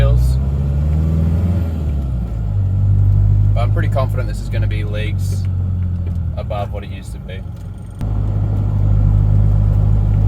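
A Toyota 4X4 N60 with a lifted, realigned independent front suspension drives on the road and picks up speed, its engine rumbling steadily throughout while someone talks over it.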